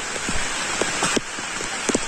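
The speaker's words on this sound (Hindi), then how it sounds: "देख सकते हो अपना कितना बारिश हो रहा है" Heavy rain falling outdoors near a river, a dense continuous hiss with scattered nearby drips and splashes, loud and steady with no voices.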